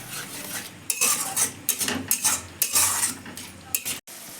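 Spatula scraping and clanking against a pan while masala is stirred and sautéed, a close run of brisk metallic scrapes and knocks in uneven rhythm.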